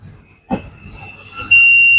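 A multimeter in continuity-test mode, used while repairing a 75-watt amplifier with no sound, gives a brief click and faint tone, then a steady, loud, high-pitched beep that starts near the end.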